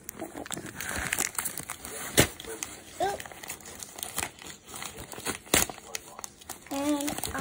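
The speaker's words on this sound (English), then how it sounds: "Paper sounds" Paper crinkling and rustling in short bursts, close by, from opening a blind bag of school supplies, with a few sharp crackles and a voice briefly talking near the end.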